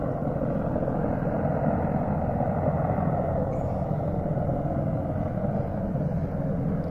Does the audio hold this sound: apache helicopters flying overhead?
yes